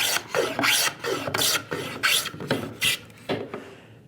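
A hand plane shaves wood with the grain in repeated strokes, each a close, breathy rasping swish about half a second long in a steady rhythm, with no talk.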